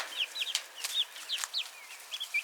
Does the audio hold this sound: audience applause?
no